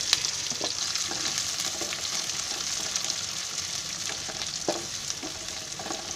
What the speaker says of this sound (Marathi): चांगला कांदा भाजून घ्यायचा लाल होईपर्यंत